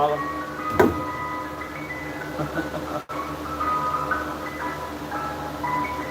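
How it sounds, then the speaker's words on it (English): Faint tinkling ice cream truck melody drifts in from a distance under steady background noise, with a short sharp knock partway through. "You guys hear that ice cream truck?"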